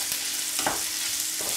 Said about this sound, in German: gebe auch dazu Speckwürfelchen ganz kurz anbraten, nicht schwarz machen und ausmachen